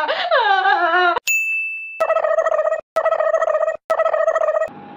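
A phone ringtone rings loudly in a series of repeated tonal bursts separated by short gaps, after an opening jingle and a brief high beep.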